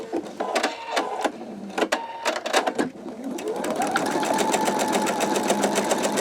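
An embroidery sewing machine stitches an in-the-hoop wallet, first in short uneven bursts with pauses, then settling into a steady, continuous close-up whir of rapid stitching.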